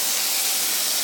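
Olive oil hitting a hot pan of mushrooms, giving a steady, loud, even hiss of sizzling that holds unchanged through the brief moment.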